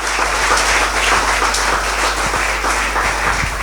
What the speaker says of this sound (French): Est-ce qu'on peut acclamer pour la parole?